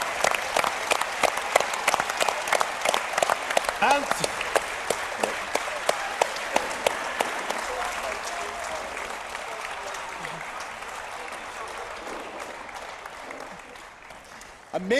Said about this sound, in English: The applause, fantastic.